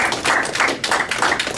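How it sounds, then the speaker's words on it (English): An audience applauding for a presenter named Sam at a training demo, a dense burst of many hands clapping close and loud for a moment, with no talking over it. "Let's give Sam a round of applause."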